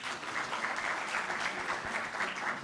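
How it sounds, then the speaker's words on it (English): A conference audience at a university mental health event claps together in a full, continuous round of applause, dense and even from start to finish, with no speech over it. "Give a better clap."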